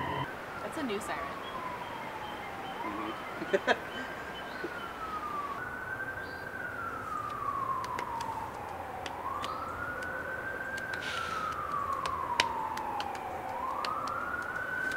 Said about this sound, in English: That's a new siren.